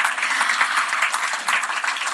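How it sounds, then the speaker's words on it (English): Sustained applause from an audience at a formal stage event for an India–Singapore payments link launch, a steady dense clapping wash lasting the whole moment with no voices on top. "How about a round of applause, please, for all the gentlemen on stage?"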